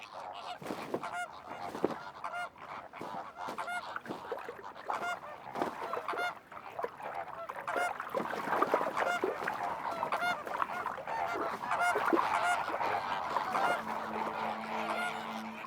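A dense flock of flamingos calls continuously in loud, honking, goose-like overlapping cries that swell and build throughout, with no talking.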